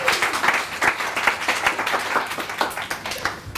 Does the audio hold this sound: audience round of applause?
yes